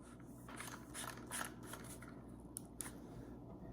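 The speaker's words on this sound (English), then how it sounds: "you just screw this piece on the other end" An end piece is screwed onto a filled jerky gun tube while making moose jerky, giving close, quiet clicky scraping bursts with a few sharp ticks and no talk.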